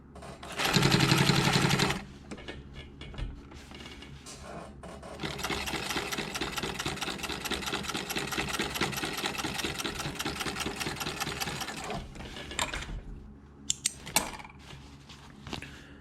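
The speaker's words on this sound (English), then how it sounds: "So we're going to stitch all the way down." A sewing machine runs steadily for several seconds, stitching down the sleeve placket of a dress shirt, with a brief loud burst at the start and a few stops and clicks near the end.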